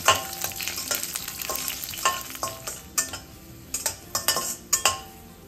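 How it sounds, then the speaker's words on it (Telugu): Mustard seeds, cumin and garlic cloves frying in hot oil in a pan, a steady sizzle broken by repeated scraping and tapping of a spoon against the pan. "కొద్దిగా ఆవాలు, జీలకర్ర, వెల్లుల్లి రబ్బలు ఇవన్నీ బాగా వేయించుకుందాం."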